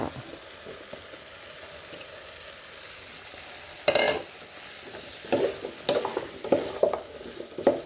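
Pumpkin pieces stir-fried in a pan, starting as a steady low sizzle and then broken by several scraping, clattering strokes of a utensil against the pan in the second half.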